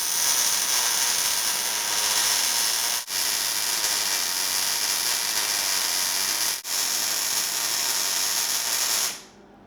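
A Hobart Handler 140 welder runs a steady, loud crackling hiss while laying a bead on 1/4 inch flat bar with underhand circular weave motions, broken by two brief pauses before cutting off near the end.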